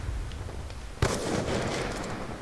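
A single sharp Bouncing Betty landmine explosion in Call of Duty: Black Ops 2 bursts about a second in, followed by a rumbling, crackling tail over background noise.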